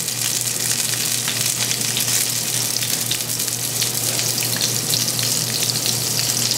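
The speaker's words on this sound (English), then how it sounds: "So once we're going to saute this, once the garlic starts to brown," Garlic sautéing in a pan with butter gives a steady, close frying sizzle. It holds even and loud from start to finish, with no voices over it.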